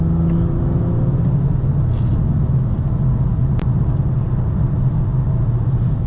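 Onboard a BMW M2 F87 on the Nürburgring Nordschleife, the engine's loud, close, low droning rumble holds steady under throttle throughout.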